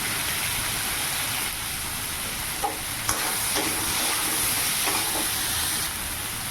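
Chili and turmeric frying in a pan for a Bengali vegetable curry give a steady, dense sizzle with faint spatula scrapes and stirring knocks. No one speaks.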